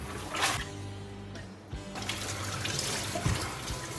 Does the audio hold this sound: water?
yes